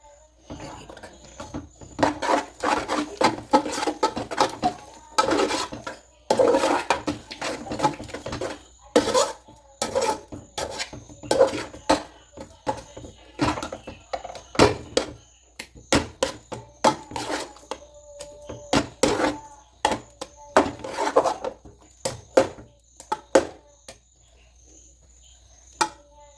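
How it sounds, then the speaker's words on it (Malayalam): A spoon stirs a palm flour mixture with grated coconut in a pan, clattering and scraping against the metal in quick, uneven bursts, while a thin steady insect-like chirp runs in the background. "തേങ്ങയും ചേർത്തിട്ട് ഒന്നും കൂടി വിരകി കൊടുക്കാം"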